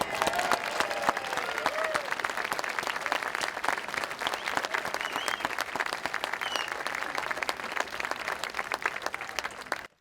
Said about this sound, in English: we have an applause for our conductor.